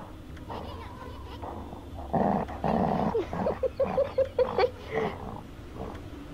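Low, rumbling growls from a dog playing tug with a ball, coming in short bursts at close range over a background of people talking.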